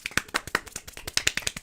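Hand clapping in a rapid, uneven patter, dry and fairly close, sounding like a few quick sharp claps.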